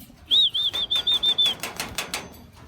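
Pigeons in a loft flap their wings in a rapid series of about eight close, loud beats while fighting, with a high thin tone running through the first burst.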